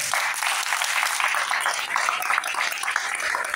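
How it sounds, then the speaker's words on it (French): Warm applause from the audience at the opening of a small-town book fair, many hands clapping loudly and evenly throughout, with no talking over it. "Merci également à notre parrain, Bruno Carpentier, qu'on peut applaudir également."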